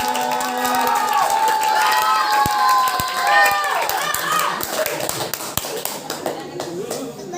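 Children applaud and cheer at a Pildacil preaching contest, a lively mix of clapping, excited shouts and crowd noise, with a few sharp taps and spoken voices breaking through as it thins out.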